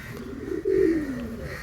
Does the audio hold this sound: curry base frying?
no